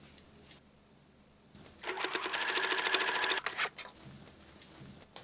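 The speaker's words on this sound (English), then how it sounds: "Insert lining and sew top edge of bag." A sewing machine runs fast and close for about a second and a half while stitching the top edge of a bag made from old jeans, giving a rapid, even mechanical chatter, followed by a few brief clicks and a quiet room.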